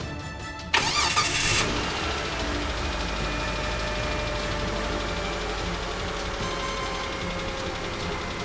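A 2005 Kia Sedona van with a newly replaced starter cranks for a moment, catches with a loud burst, then settles into a steady, even idle.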